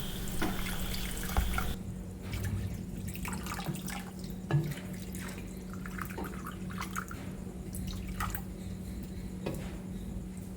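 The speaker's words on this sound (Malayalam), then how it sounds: "ഇനി നമുക്കിത് നേകയ്ക്ക് കുറച്ച് വെള്ളം ഒഴിച്ച് കൊടുക്കാം" Water poured into a clay pot holding koozh ingredients, a running, splashing pour with drips and light clatter, close and continuous, with no talk.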